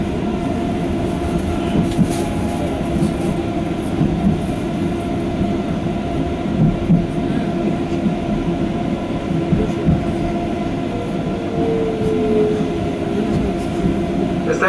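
A Docklands Light Railway train runs between stations from Tower Gateway toward Shadwell in London, giving a loud continuous rolling rumble with wheel clatter, a faint squeal near the end, and a steady hum throughout.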